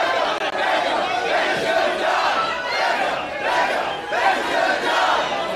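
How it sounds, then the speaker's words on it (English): A wrestling crowd in Worcester chants and roars at a live event, dense and loud throughout with rhythmic swells of many voices. "As this crowd in Worcester telling Becca what her fate is here tonight"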